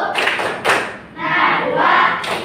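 Classroom children perform a rhythmic clapping cheer together, loud and close, with bursts of claps and chanting voices in short waves.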